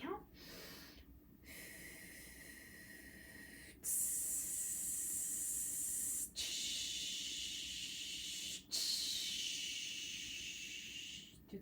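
Several long, deep inhales through the nose during a core meditation exercise, each a sustained hissing breath separated by short pauses, close and fairly quiet.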